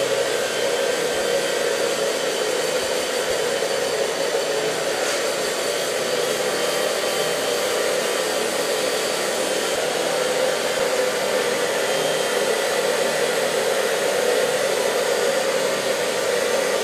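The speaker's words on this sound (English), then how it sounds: "I blow dry it with my hands" A hair dryer blows steadily and loudly throughout, drying freshly cut short blonde hair in a salon, a constant close whooshing roar with no talking.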